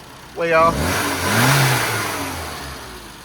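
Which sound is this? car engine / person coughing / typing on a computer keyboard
car engine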